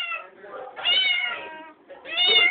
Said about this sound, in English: Every single cage is full with 33 cats.